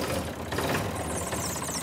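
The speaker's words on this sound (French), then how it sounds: "Bah, c'est un bon petit tracteur." An American tractor engine runs at a steady idle, a continuous low mechanical rumble with a knocking texture, heard close and fairly loud at an agricultural show hall.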